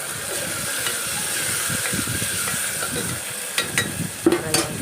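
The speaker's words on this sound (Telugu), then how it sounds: "టమాటో వేసుకొని కొంచెం ఫ్రై చేసుకోవాలి" Tomato and green chilli frying in a pan for chicken curry: a soft continuous sizzle with intermittent stirring scrapes and a few sharper clinks of the spoon near the end, close by with no talk.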